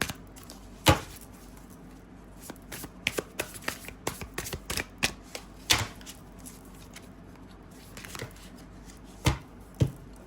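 Tarot cards being shuffled by hand, a run of soft riffling taps and flicks with a few sharper slaps of the deck, close and fairly quiet with no talking.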